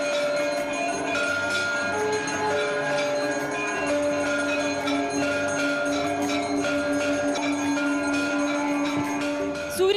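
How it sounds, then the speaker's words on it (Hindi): Temple bells ring steadily and densely at the Ram temple in Ayodhya, a continuous bright metallic clangour with sustained tones that may include conch shells, filling the whole stretch without pause. "राम मंदिर परिसर शंख और घंटियों से गूंज उठा"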